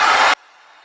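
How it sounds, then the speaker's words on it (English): A heat gun blasts hot air to strip a coating from a wood slice, a loud steady rushing roar that cuts off abruptly after a third of a second, leaving near silence. "I have to use the heat gun to take this off."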